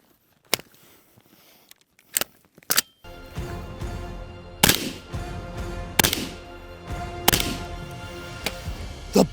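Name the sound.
rifle gunshots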